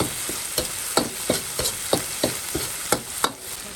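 Dried chilies being stir-fried in a wok for sour-soup beef, a spatula striking the pan in an even rhythm of about ten sharp scrapes over a constant low sizzle, close and with no voices.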